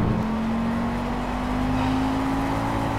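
A 250cc go-kart engine with a blown engine drones steadily and loudly, its pitch rising slightly over a rough, rumbling roar, with no talk.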